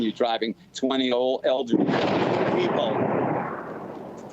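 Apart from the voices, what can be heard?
nearby missile explosion in a war zone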